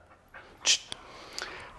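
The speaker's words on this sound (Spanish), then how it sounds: "Estos perros tienen ganas de echar relajo." Dogs pant and play, giving a few short huffs and one sharp burst, close but brief, in an otherwise quiet room.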